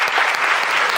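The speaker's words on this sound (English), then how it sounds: "And another round of applause," A short burst of audience applause after a leadership talk, dense clapping from many hands filling the room, loud and steady, with no speech.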